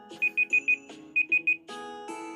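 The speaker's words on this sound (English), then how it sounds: "Oh, that was my timer." A kitchen timer alarm rings loudly in two bursts of short repeated high-pitched beeps, four then three, ending abruptly.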